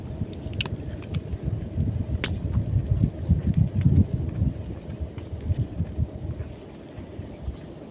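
Steady low rumbling strong wind buffets the microphone for several seconds outdoors, with a few faint clicks over the top and no talking.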